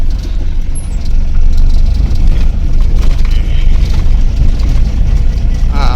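A goods truck edging under a height-limited bridge, its engine giving a loud, close, continuous low rumble with slight surges.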